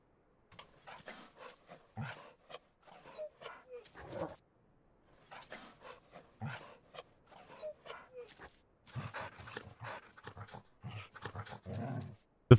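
Torgal, a large wolf-like hound in Final Fantasy XIV, gives soft whimpers and little yips while being petted, recurring in short clustered bursts with brief pauses throughout, close and clear with no talking.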